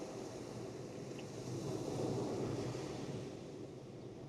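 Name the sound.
ocean waves on a beach at dawn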